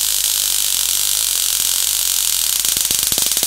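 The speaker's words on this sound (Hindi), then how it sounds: "यहाँ पर देख सकते हो भाइयों कि यहाँ पर वापस से प्लाज्मा जनरेट होने लगा" A high-voltage booster powered from 3.7 volts drives a plasma arc that gives a loud, steady hissing buzz, breaking into sharp irregular crackling snaps toward the end, close up with no speech.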